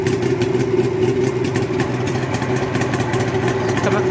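A custom Suzuki GT750 classic motorcycle idles steadily at close range on its first start-up of the year, its engine giving an even, continuous mechanical rumble with no voices over it.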